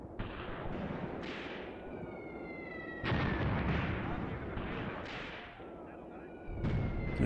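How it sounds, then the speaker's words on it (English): Artillery shells land in the Graviteam Tactics war game, several heavy booming impacts in quick succession with rumbling decay between them, fairly loud, with someone talking quietly over them. "I think that's our artillery landing now"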